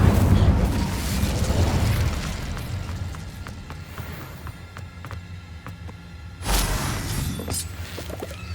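The Incendio fire spell in Hogwarts Legacy, with a loud fiery whooshing burst at the start that tails off into a low crackle, then a second bright flaring burst near the end.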